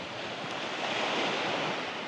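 Waves break and wash over a shingle beach on an overcast Suffolk coast lined with old groynes, a steady close roar of surf with some wind noise and no talk.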